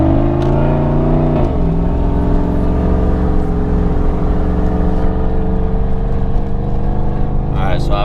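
A Hemi V8 in a Ram pickup truck roars steadily under hard acceleration, its engine drone loud and continuous with a pitch shift early on.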